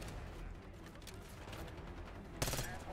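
Rapid gunfire from a Call of Duty: Black Ops 6 match, a steady rattle of automatic shots with a louder, sharper burst near the end.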